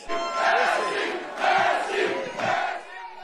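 A large crowd at an election-night event roaring and cheering in loud swelling waves, three surges rising and falling close by.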